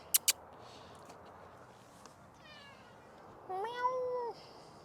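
A cat meows twice close by, each a drawn-out, rising-and-falling call, the second one longer and louder. Before that come two sharp clicks in a quiet workshop where a sawzall pruning blade is being tested.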